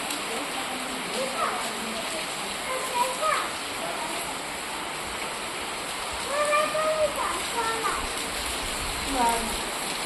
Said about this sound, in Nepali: आज पानी परेर मौसम कस्तो शीतल भयो